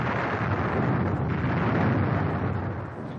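Incoming artillery shells exploding at the Khe Sanh base during a heavy bombardment, heard as a dense, continuous roar of blasts, loud and rumbling, fading slightly at the end.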